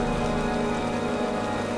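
Steady heavy rain pours in the video game Heavy Rain, a loud continuous hiss and patter on surfaces with no voices.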